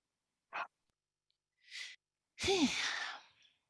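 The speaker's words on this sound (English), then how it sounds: "I've been yawning through the whole process. I'm still yawning." A slow yawn heard alone after two soft breaths: a drawn-out, voiced sound that rises and falls before trailing off into an airy exhale.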